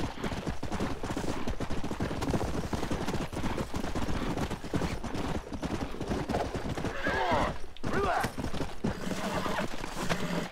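Horse hooves clip-clop steadily in Red Dead Redemption, with a horse neighing near the end and gunfire and game action dense throughout.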